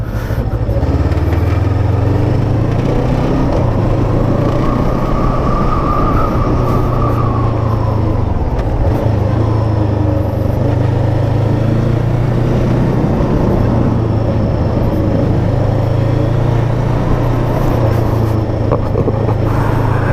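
Bristol Veloce 500 motorcycle on a test ride: a loud, steady engine drone heard from the saddle, dipping and rising with throttle and gear changes, under constant wind rush, with no talking.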